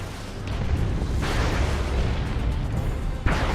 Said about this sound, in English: Oh, we got another creeping barrage.